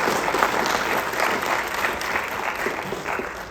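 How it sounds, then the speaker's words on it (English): A round of applause at a meeting during an African Union heads of state summit, a room full of people clapping steadily and fairly close for a few seconds before fading slightly. "Join me in a round of applause."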